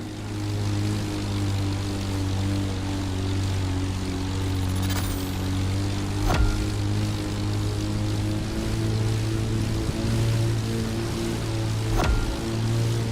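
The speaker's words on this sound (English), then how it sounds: "Here the plane will have to make very tight turns if it wants to keep up with the AGP" A propeller plane's engine drones steadily in the racing video game The Crew Motorfest as it races an AGP racing car, a loud constant hum with a couple of brief sharp clicks.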